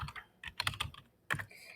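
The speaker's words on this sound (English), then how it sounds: "So I'm just typing in here the plan for project." Quick, light clatter of typing on a computer keyboard while entering a craft project plan into a spreadsheet, in uneven bursts of keystrokes with brief pauses, close and fairly quiet.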